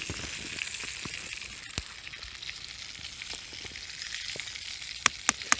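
Sausage and bacon sizzle in a frying pan over a campfire in snowy woods, a steady close hiss with a few sharp crackles and pops near the end.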